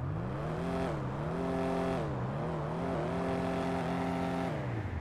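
JB 700W car engine in GTA 5 Online, a deep droning motor whose pitch climbs and falls as it revs up and settles repeatedly, steady and close, with no voices.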